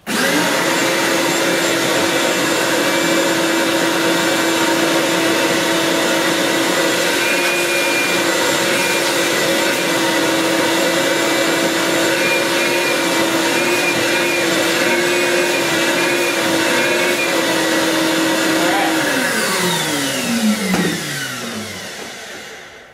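A 6.25 horsepower shop vac running from a portable power pack, a loud, close, steady high-pitched whine with a strong motor hum that winds down in a falling pitch when switched off near the end.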